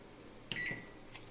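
A microwave oven roasting mushrooms, baby corn and vegetables hums faintly and steadily, with a brief electronic tone in the middle, heard close by with no talking.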